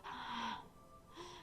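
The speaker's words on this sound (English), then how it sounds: "It sounds like breathing. A sharp inhale, like someone is sucking air through their teeth." In the horror visual novel game Doki Doki Literature Club, someone sucks air sharply through their teeth in two breathy inhales, a longer one and then a shorter one after a brief pause. The sound is close and clear, with no voices.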